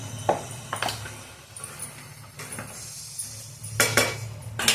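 A metal spoon scraping and clinking in a pan as chicken curry is stirred with chilli powder and salt, irregular knocks and scrapes over a low background hum.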